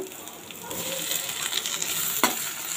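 Chopped tomatoes land in a hot pan of onions for bread upma and sauté with a steady close sizzle and stirring, ending in a sharp scrape of the utensil near the end.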